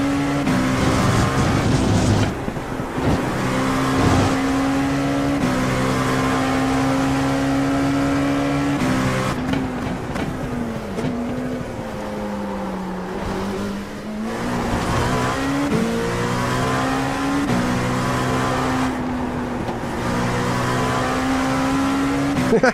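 Sustained LMP2 prototype race car engine at Laguna Seca in the iRacing sim, loud and continuous, with pitch rising and falling through gear changes and corners and no talk over it.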